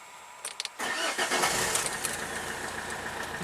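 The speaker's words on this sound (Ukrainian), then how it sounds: "тепер знову заводимо" An Opel Vectra C engine cranks briefly and catches, then settles into a steady idle, close and fairly loud with no talk.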